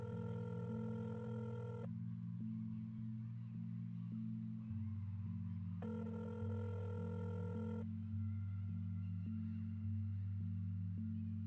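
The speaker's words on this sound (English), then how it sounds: "considering it's ringing means that a signal is getting through" A telephone ringing tone repeats in long electronic pulses with gaps between them, layered over a steady low synthetic drone and background music.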